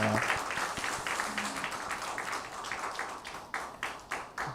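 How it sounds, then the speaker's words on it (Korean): A church congregation at a Sunday worship service applauds to congratulate a family on a new baby, a steady wash of many hands clapping that holds for several seconds and tapers with a few louder claps at the end. "우리 축하의 마음을 담아서 이 시간 박수 한번 해드릴까요?"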